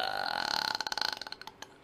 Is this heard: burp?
yes